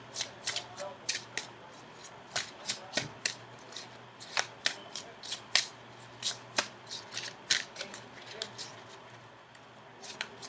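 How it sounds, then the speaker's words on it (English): Tarot cards are shuffled close by in a quiet room, making a long series of crisp riffling snaps and flutters at an uneven, hurried pace. "maybe I should actually go ahead and shuffle for your outcome card"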